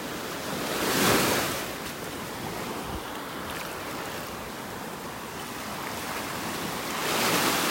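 Ocean waves break and wash along a sandy shoreline on a morning beach in North Naples, Florida, a steady roaring surf that swells louder at the start and end, with some wind noise and no talking.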